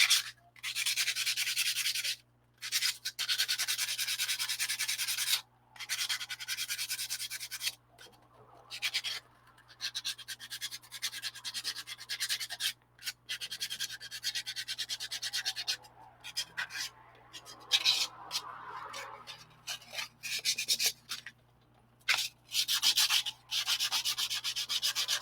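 Hand sanding with 120-grit sandpaper makes a close, loud, scratchy rasp in repeated strokes, with brief pauses breaking up the rubbing over about twenty-five seconds.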